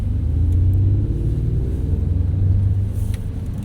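A Porsche with active ride suspension swerves through a slalom at Sepang circuit, its engine a close, loud, low rumble that swells and eases with the turns, with no talk over it.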